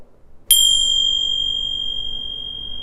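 Meditation chimes smacked together once, giving a bright metallic strike followed by a clear resonant ring that sustains and slowly fades, heard alone in a quiet room.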